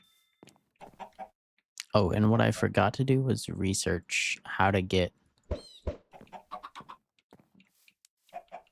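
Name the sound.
chicken clucking in video game Minecraft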